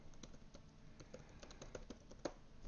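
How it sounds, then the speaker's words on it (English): Steady, irregular clatter of keys being typed on a computer keyboard, fairly quiet and close, with no talking over it. "I'll type that into chat."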